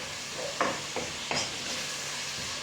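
Ginger sizzling in a frying pan as it is stirred, with a steady low hiss and three soft scraping strokes of the spoon, quiet and close.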